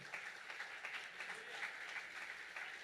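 A church congregation applauds, a faint, steady patter of many hands clapping heard from a distance.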